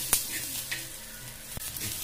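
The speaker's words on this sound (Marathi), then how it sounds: "कांदे भाजून घेत आहे।" Onions browning in a pan for Maharashtrian handi mutton masala, a soft steady sizzle with a few quick clicks of a spoon stirring, fairly faint and close.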